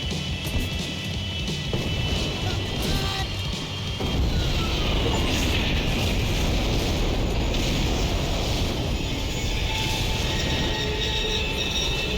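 A plane's engine drones in Max Payne 3, a steady, loud broadband roar that holds through the whole stretch with a slight swell partway, no speech over it.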